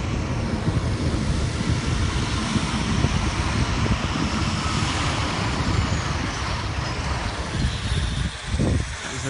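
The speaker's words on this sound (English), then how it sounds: "Their plane just landed." Loud, steady broadband engine roar of a skydiving plane that has just landed, with wind rumble throughout and a brief surge near the end, no voices.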